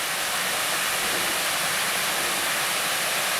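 A large man-made waterfall pours over an overflowing dam below a lake: a steady, loud, broadband rush of falling water, continuous and close with no pauses and no voices.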